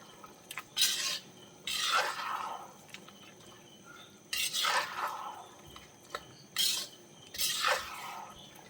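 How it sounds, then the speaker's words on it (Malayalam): Fried beef being stirred into a spicy pickle gravy in a pan: three separate bursts of wet, squelching mixing and spoon scrapes, close up, with quiet pauses between them and no talking. "ഗ്രേവിയായിട്ട് നന്നായിട്ടൊന്ന് മിക്സ് ചെയ്ത് കൊടുക്കാം."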